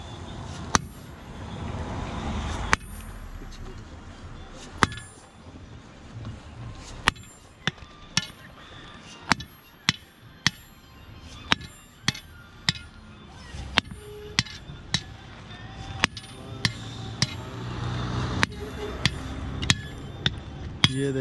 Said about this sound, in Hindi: ये देखो इन्होंने हथौड़े से मार मार के इसको चपटा कर दिया